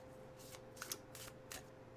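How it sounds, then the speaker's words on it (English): Tarot cards are shuffled in quiet, soft riffling bursts repeating about four times in quick succession, close and faint, with no talk. "I pick up my cards and I'm shuffling them"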